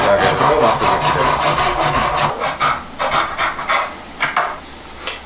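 A Japanese hand saw cuts through wood while a wooden spoon is shaped, giving steady, rasping back-and-forth strokes up close that turn into shorter, uneven strokes near the end.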